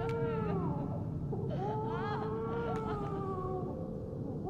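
Baby crying in the Dead Space 2 video game, a faint, wavering wail with rising and falling tones over a low, rumbling ambient drone, steady throughout.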